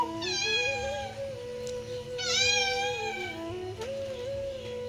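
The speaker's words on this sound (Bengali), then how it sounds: "এই মিনুপুষিটাই আমাদের মাছ নিয়ে পালিয়েছিল" A cat meows twice in long drawn-out calls close by, loud and clear over a steady low hum, on a rainy morning at home.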